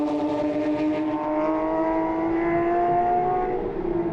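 Porsche GT3 Cup race cars in Australia running into a hairpin, engines droning loudly with a rising then falling pitch as they brake and pass, continuous and near.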